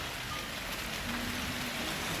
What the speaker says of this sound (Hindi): बारिश हो रही है इसलिए कुछ कम लोग हैं